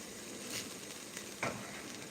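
Tuna packing liquid splashed into a hot Dutch oven gives a soft, steady sizzle with a couple of brief louder spits, close and moderately quiet, with no voices.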